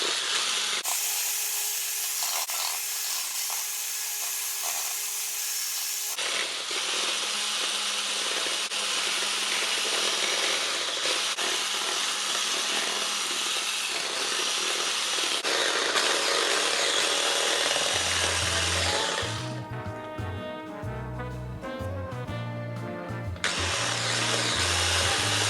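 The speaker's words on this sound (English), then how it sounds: "We'll keep on whisking." Dalgona whipped coffee mixture whisked to a thick froth: a loud, steady mechanical whirring close by, with music taking over near the end.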